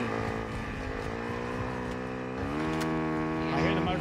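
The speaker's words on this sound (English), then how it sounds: "I hear the motorcycle behind us," An engine hums with steady harmonic tones that shift upward partway through, like a motorcycle revving in a game, fairly quiet with faint voices underneath.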